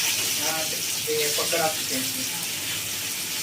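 Rani fish fries in a pan with a steady high hiss and crackle, and the pieces get flipped over. A faint voice sits beneath the sizzle.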